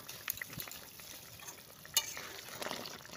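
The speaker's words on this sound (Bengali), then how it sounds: "এবার আমি সর্ষেটা দিব, সর্ষেটা দিয়ে ভালো করে নাড়াচাড়া করবো" Mustard paste is stirred into a pabda fish curry. The stirring comes through as faint scraping, with a low simmering hiss and a few light utensil knocks, quiet and close with no talking.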